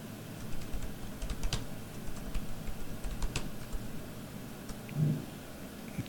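Typing on a computer keyboard, with irregular light key clicks coming in bursts across several seconds over a steady background hiss, close and fairly quiet.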